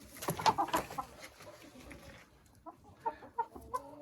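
Hens clucking near a turkey at a feed trough of crushed shell grit in a poultry pen, several short clucks and calls in bursts over a soft background.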